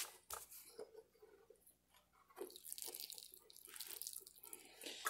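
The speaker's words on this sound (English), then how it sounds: "let's give it a little water." Water is poured onto a potted pepper plant, making a soft splashing patter into the soil that swells and fades over a few seconds, quiet and close.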